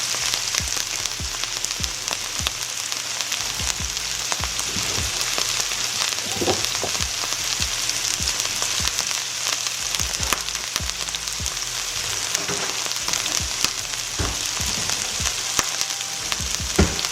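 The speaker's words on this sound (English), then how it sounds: "It's starting to sizzle on up." Meat sizzles continuously in a hot frying pan, a dense crackling hiss that holds steady throughout, with occasional louder pops and soft knocks.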